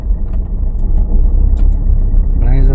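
Car engine running steadily during a driving lesson as the clutch is released and the car gently accelerates, a loud continuous hum under an instructor's speech.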